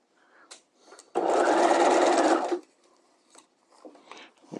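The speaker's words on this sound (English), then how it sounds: "Making sure things stay smooth under where I'm sewing." A sewing machine stitches a dress sleeve in one steady, loud, close whirring run of about a second and a half. Soft fabric rustles and handling noises come before and after it.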